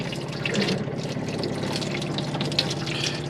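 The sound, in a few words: water running from caravan hand basin tap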